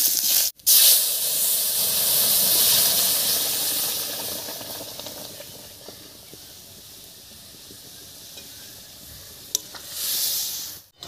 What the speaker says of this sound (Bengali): ফোড়নটা একটু ভেজে নিয়ে এর উপরেই নামিয়ে রাখা ডালটা দেব।